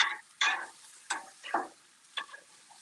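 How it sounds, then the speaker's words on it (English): Cabbage and bacon frying in a pan beside grilling country-style ribs, with a soft steady sizzle broken by several sharp clicks and scrapes. "keep these guys rolling while this cabbage and this bacon cooks"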